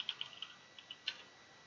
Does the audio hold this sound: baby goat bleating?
no